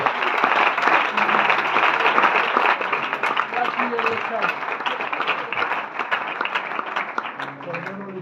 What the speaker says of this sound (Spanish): Un aplauso para el Cordero de Dios.